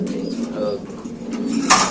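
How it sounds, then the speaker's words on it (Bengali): Soft, low coos from a black Mondain pigeon repeat close by, with a brief flutter near the end. "এখানে আছে একটা ব্ল্যাক মন্ডিয়ান কবুতর আপনি দেখতে পাচ্ছেন"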